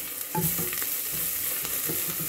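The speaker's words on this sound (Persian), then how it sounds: "همش میزنم و" Mussels are stirred in a pot with garlic, black pepper and salt, giving a close scraping stir over a soft, steady sizzle, with no voices.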